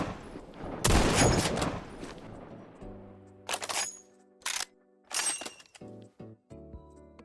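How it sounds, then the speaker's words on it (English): Bolt-action M1903 Springfield rifle shots in the Phantom Forces shooter game: one loud blast followed by several sharper cracks spaced about a second apart, with bolt-cycling clicks and mechanical handling noises between them, no talking. "this is what the M1903 sounds like"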